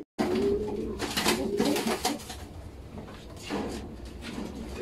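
Racing pigeons coo softly and repeatedly close by, with rustling and flapping-like bursts between the calls.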